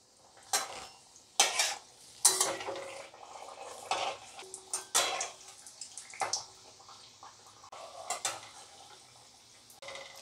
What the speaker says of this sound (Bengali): আমি এবারে তেলে দিয়ে দিলাম।